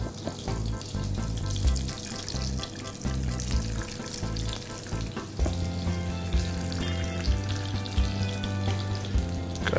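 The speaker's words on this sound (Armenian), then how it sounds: "Թեթև տապակում ենք բեկոնը" Steady, close sizzling and crackling of food frying in a hot pan, continuous throughout with occasional soft clinks.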